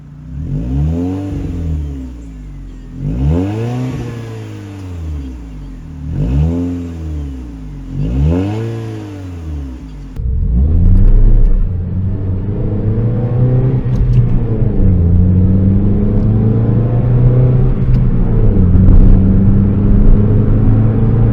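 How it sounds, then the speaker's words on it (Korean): A car engine with a newly replaced end muffler revs in four strong, rising-and-falling pulses, then settles into a steady, deep exhaust rumble that keeps idling close by. "이제 배기음 소리 한번 들어보도록 하겠습니다"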